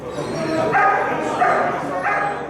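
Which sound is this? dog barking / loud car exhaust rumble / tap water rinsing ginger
dog barking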